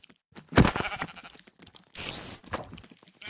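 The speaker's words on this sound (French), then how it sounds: "Des moutons." Sheep in the video game Minecraft bleat twice, a loud close bleat followed by a second, longer and noisier one, standing out clearly against a quiet background.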